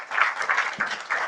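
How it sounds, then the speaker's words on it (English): A conference audience at an energy agency assembly breaks into a short burst of applause, moderately loud, clapping in uneven waves over about a second. "A round of applause for her."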